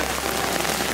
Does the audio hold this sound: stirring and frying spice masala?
no